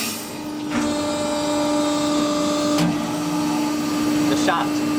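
A hydraulic pump on a 300-ton, 3200 mm press brake runs with a steady mechanical hum and a constant tonal whine, with a couple of brief clanks on top and no talking.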